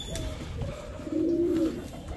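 Pigeons coo in a steady, soft rolling call outdoors, close by, with wind and background noise around them while birds are being moved into a cage.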